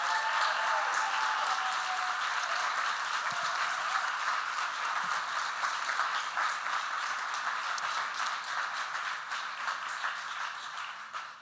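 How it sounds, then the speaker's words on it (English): A live audience at a city council candidate forum, hosted at a Jewish Community Center, gives sustained applause: dense, even clapping that fills the room at a steady level and tapers slightly toward the end. "please give them a big round of applause for stepping forward for our community"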